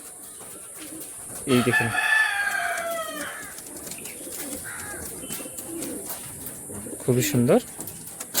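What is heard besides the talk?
teddy pigeons cooing in loft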